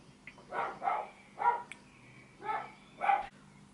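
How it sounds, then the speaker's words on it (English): A dog barks five times in a slightly irregular rhythm, each bark short and muffled, heard from some distance at a low level inside a quiet indoor space. "that dog."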